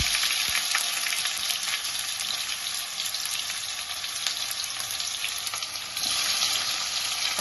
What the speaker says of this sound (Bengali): এখন টমেটো কুচিটা দিলাম।